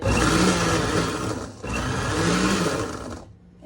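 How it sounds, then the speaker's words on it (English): Countertop blender running on a dice or chopping setting for homemade salsa, a steady loud whirring motor hum that holds for about three seconds, then cuts off abruptly near the end. "So hit the dice chopping salsa button."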